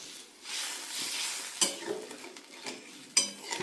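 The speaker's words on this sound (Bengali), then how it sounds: "এই দেখো ভাজা হয়ে গেছে রুই মাছ" Rohu fish frying in a pan for a village-style fish curry, giving a steady broadband sizzle with a few sharp utensil scrapes and clinks, close and moderately loud, with no talking.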